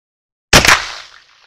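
A black powder rifle fires a single 425-grain bullet set off by a large rifle primer: one sharp, very loud close boom out of silence, followed by a short rolling decay.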